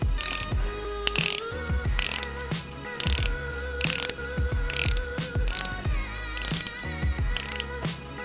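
Drag on a KastKing Summer spinning reel being tightened, producing crisp ratcheting clicks in short bursts with pauses between turns, close and clear with no talking.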